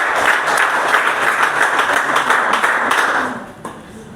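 An audience at a discipleship training session bursts into applause, many hands clapping steadily and loudly before stopping abruptly near the end, leaving a last stray clap.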